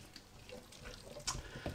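Water is poured from a tap into a pan of simmering mince, a soft, splashy trickle with a brief louder gush near the end, close and fairly quiet.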